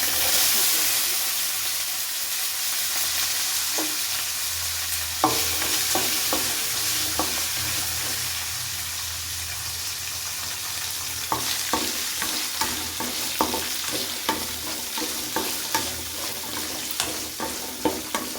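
Small onions fry in oil with mustard seeds and cumin for sambar, a continuous close sizzle overlaid by stirring scrapes and clicks that grow more frequent toward the end.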